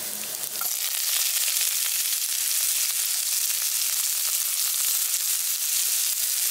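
Chopped onion and ginger frying in hot oil in a pan give a loud, steady sizzle that starts abruptly and holds for several seconds, with no talking.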